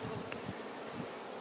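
Bees buzzing steadily at a Kenyan top bar beehive, a faint continuous hum with a few louder passing drones close by, no voices.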